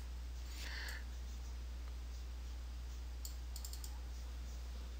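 Computer mouse button clicks in a quiet room with a low steady hum: a quick cluster early on, then a faint rapid double click and a few more light taps later.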